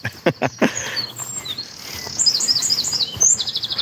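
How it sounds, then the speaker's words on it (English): Outdoors on a morning walk, a bird chirps and tweets in quick high repeated notes, close and clear, after a few louder knocks at the start. "Pretty Bird, greetings to you."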